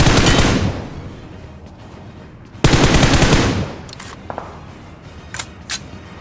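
Gunfire rings out during a squad fight in the mobile battle royale game BGMI: loud, close bursts of rapid shots, a pause, then another heavy burst, followed by scattered single cracks further off.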